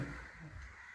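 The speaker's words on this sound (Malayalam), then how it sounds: "ഇവിടെ കാക്ക മത്സരിക്കുന്നു ഇവിടെ" Crows cawing outdoors near a house in Kerala, a short, faint call heard at a distance with no talking.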